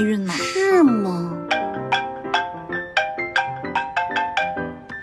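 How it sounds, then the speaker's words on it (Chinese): A phone ringtone plays in an office, a melodic chime of repeated bright tones pulsing steadily for several seconds after a brief spoken line at the start. "老板，电话。"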